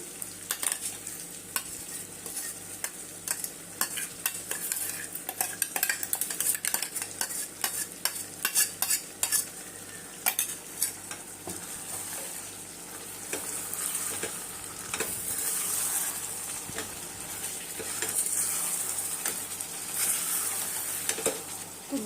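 Hariyali chicken ghee roast sizzles and fries in a pan while a spoon stirs it in frequent scraping strokes, with a steady frying hiss running throughout.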